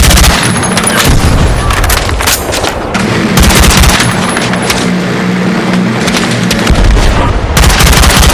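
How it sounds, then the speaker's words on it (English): Grenade launch and explosion in a shooter video game on PlayStation 5, heard as a dense, loud barrage of booms and rapid gunfire bursts running continuously with no gaps and no talk. "Launching grenade!"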